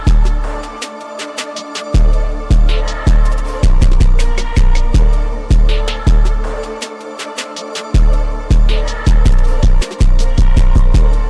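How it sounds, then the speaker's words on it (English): Hard-hitting trap drum kit with a booming 808 and a crisp snare pattern, played loud and steady with rapid hi-hat rolls, a brief drop in the middle. "We are using my infamous go-to 808 for my hood trap drum kit."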